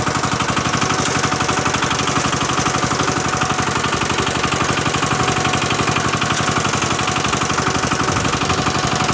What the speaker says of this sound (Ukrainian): Нажимаємо щеплення і вмикаємо швидкість.